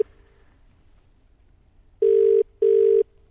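A telephone call rings out over the line as two loud, evenly spaced ring tones, with a short faint tone before them, against a quiet line hiss.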